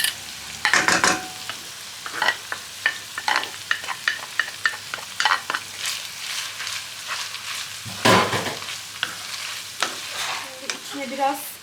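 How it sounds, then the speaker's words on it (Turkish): Minced meat and grated potato frying in a pan, bursts of sizzling hiss rising and falling as the mixture is stirred and scraped in an uneven rhythm. "bir büyük patates rendesi koyuyorum içerisine. Bir de öyle kavuracağım."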